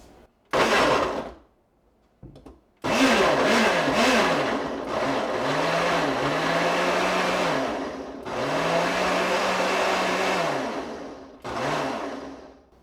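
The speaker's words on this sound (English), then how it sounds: "now that's all I have in the blender at the moment. Now I'm going to puree this" A blender pureeing salsa whirs loudly in several bursts, its motor pitch rising and falling as it churns, with short pauses between runs.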